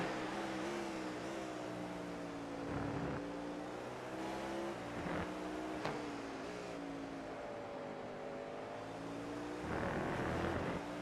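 A GTP prototype race car in iRacing at Sebring in the rain holds a steady, loud engine drone from the driver's seat, its pitch rising and dropping with gear shifts and throttle changes.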